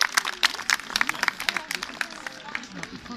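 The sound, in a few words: audience applauding the vulture's landing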